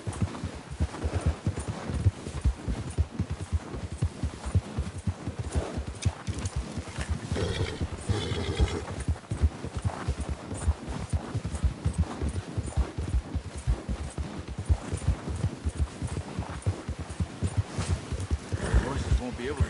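In Red Dead Redemption 2, horse hooves clip-clop in a steady walking rhythm, close and continuous, with voices talking over them.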